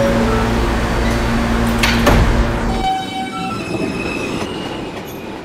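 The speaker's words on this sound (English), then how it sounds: "This is the Colleen Park bound J Express train." A J Express subway train rumbles loudly at close range, then pulls away from the station with squealing wheels and rising electric tones as the low rumble thins out.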